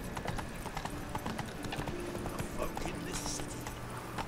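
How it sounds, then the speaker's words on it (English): A horse gallops in The Witcher 3 video game, its hooves clip-clopping in a quick, steady rhythm close by, with faint ambient game sounds around it. "Can I ride my horse whilst encumbered? We can. Run, Roach."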